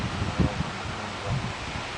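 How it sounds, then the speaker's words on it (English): Wind gusts through rustling leaves ahead of a summer storm, a steady broad rush with a couple of stronger buffets against the microphone, no talking. "And it is windy."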